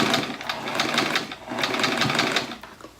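A sewing machine runs through a quilt seam in quick rhythmic bursts of stitching, close and clear, pausing briefly midway before resuming.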